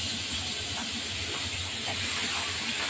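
Pabda fish drop into hot oil and sizzle in a loud, steady, close hiss that carries on unbroken.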